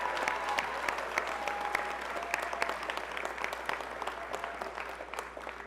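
A big commencement crowd at Mercer County Community College's 2019 graduation applauds in a thick, continuous wash of clapping, loud and near, easing slightly over several seconds without any clear talk on top.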